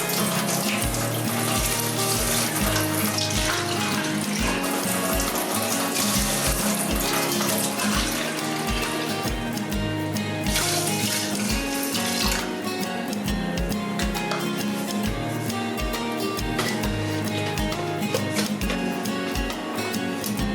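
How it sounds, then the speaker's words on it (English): Water runs steadily from a kitchen tap as it is measured out for sushi rice in a rice cooker, a continuous, loud rushing that holds unchanged throughout with no voices. "So now I'm going to do 3 parts of water."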